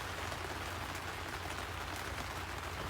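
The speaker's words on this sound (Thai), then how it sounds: "ฝนก็ตกลงมา" Steady, even rain hisses outdoors over a vegetable garden of Thai kale, a dense continuous wash of sound with no distinct drops standing out and no voices.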